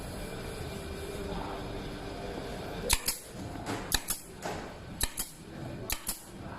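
A CHARMBO F-32 gas air pistol fires in a row of sharp snapping cracks, about six shots spaced roughly a second apart, close and crisp over quiet background hiss.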